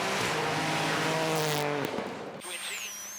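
A Toyota Yaris AP4 rally car on a night stage roars past at close range, its engine note revving and shifting, then fades as tyres briefly squeal, with a voice speaking over it.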